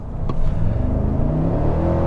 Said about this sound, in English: put your foot in it, it does make some good sounds